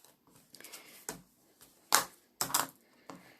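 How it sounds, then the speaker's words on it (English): A bone folder presses and smooths paper over a handmade notebook and card wallet: a few soft, separate taps and brief scrapes close by, with quiet gaps between them. "Press down with your bone folder."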